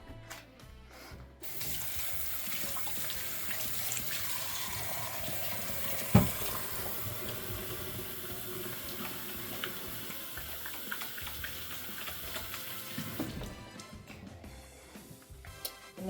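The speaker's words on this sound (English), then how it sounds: "Wash my hands again." Hands washed under a running kitchen sink tap while making Italian stuffed mushrooms: a steady, close gush and splash of water lasts about eleven seconds, with a brief clatter partway through, then cuts off.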